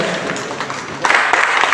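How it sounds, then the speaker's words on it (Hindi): Loud, steady applause from the audience at a postal department award ceremony, a continuous wash of clapping that swells slightly partway through. "जोरदार तालियां"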